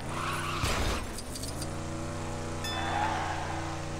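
Engines whine and tires squeal as cars race in the LEGO Dimensions video game, a continuous close roar with a brief skid and a passing car partway through, no voices.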